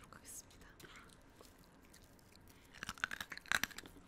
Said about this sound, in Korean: 일단 바트롱 논두렁을 제가 먹어보도록 하겠습니다.